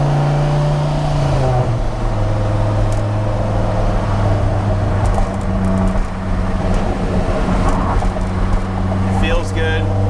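A 2001 Dodge Viper RT/10 with a Belanger exhaust pulls in second gear, its engine drone steady and rising in pitch, heard from inside the car under continuous loud road noise.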